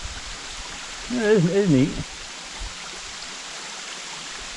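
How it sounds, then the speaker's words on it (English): Steady broadband rushing of a waterfall on the hike up Mount Greylock fills the scene throughout, with someone briefly speaking over the constant flow of water. "Took a chance on getting a view of a cool waterfall."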